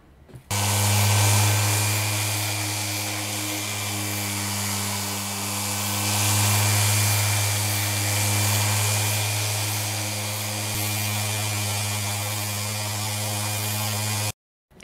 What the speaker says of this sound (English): slap on a sanding disc and get stripping